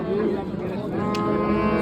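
A cow moos at a busy livestock bazaar in Gallaorol, a single drawn-out low call rising over the surrounding crowd noise and voices.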